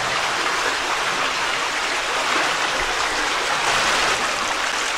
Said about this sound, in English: this is where the water from the dam comes out